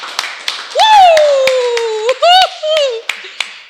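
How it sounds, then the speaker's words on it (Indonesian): A handful of scattered claps ring out while a voice lets out a long, sliding whoop and a couple of shorter cheers. "Tepuk tangan lu untuk Cantik Tahril."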